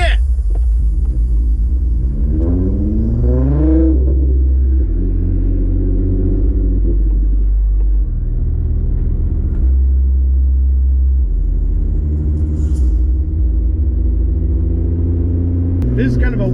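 Loud car exhaust rumbles steadily in a car driven through downtown streets, a deep low growl that swells in bursts of revving and shifts in pitch as the engine changes gears. A voice talks over it throughout.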